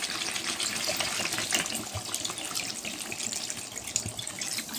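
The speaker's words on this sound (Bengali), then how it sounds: "চলো এবার আমি জল দিয়ে দিই অল্প করে" Water is poured into a pot of chicken kosha, a steady, close splashing gush lasting a few seconds with no talking.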